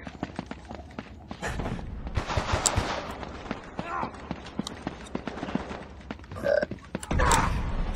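Gunfire during an Uncharted team deathmatch set in a London Underground map: rapid automatic bursts and scattered shots crackle throughout, with footsteps and clatter, under frequent excited talking.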